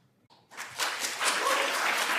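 Audience applause at a US Senate hearing, a crowd of clapping that starts suddenly after a brief pause and swells into steady, moderately distant applause.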